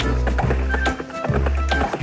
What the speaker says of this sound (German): Reiten wir das Pferd.